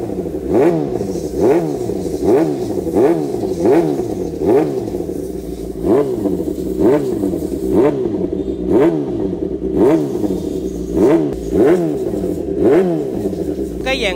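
A Yamaha R6 motorcycle fitted with a titanium exhaust revs up again and again in a steady rhythm, each loud, close rise in pitch dropping away before the next blip.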